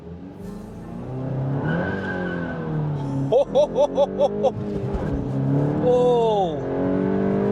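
An MK8 VW GTI with a low-torque tune accelerates hard from 0 to 100, engine rising through the gears while tires squeal in short repeated chirps; a man exclaims over the run.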